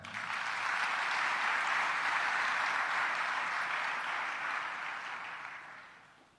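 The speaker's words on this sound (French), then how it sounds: "Acclamez pour vous-même" A church congregation applauding during a worship service, a sustained wash of many hands clapping that holds steady and then fades out at the end, with no voices standing out.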